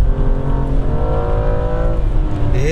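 A BMW M235i F22 on kickdown drops several gears and pulls hard, its engine note rising steadily in pitch. It is loud and close, heard from inside the car.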